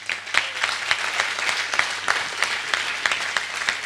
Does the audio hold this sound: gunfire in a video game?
no